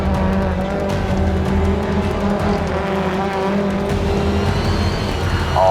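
Rallycross race car running the shorter Joker lap, a loud continuous engine drone with tire noise close by, steady throughout with no talk.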